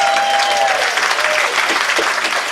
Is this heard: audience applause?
yes